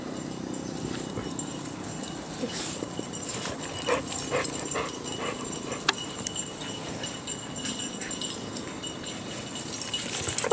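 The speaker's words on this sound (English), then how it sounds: "It finally stopped and he had to bark at it." A dog barks on a mountainside at a rock it has chased downhill, outdoors with some faint rustle and footsteps around the short, scattered barks.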